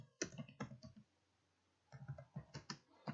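Fingers type on a computer keyboard while entering accounts in an Excel spreadsheet: two quick runs of crisp, close key clicks separated by about a second of near silence, quiet and with no talking.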